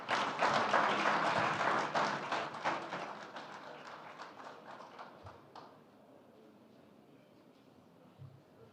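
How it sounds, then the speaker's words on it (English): An audience applauding a speaker at a Namibia-EU business forum, with a dense burst of clapping from many hands that thins out and fades over several seconds into a quiet room. "Please give him a warm round of applause."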